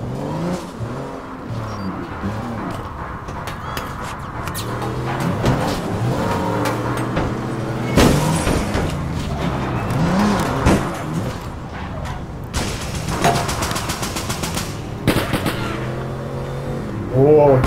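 A car in the game APB drives off, its engine revving up and down through repeated gear-like sweeps, close and steady, with voices talking over it throughout.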